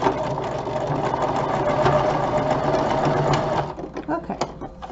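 A sewing machine stitching a fabric strip runs in a loud, steady whirring hum for several seconds, then slows into a few uneven bursts as it stops, with a voice talking faintly over it.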